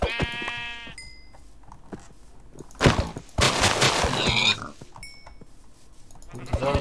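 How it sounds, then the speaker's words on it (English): Sheep in the video game Minecraft bleat in short wavering cries, one clear near the start and another later, with loud sharp bursts of other game noise between them. "There's so many sheep there."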